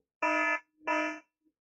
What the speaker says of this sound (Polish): Poszedł alarm.